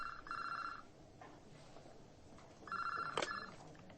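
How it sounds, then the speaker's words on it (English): A desk telephone rings in an office, two bursts of an electronic trill separated by a pause, fairly faint and with no voices. "the phone on my desk rang"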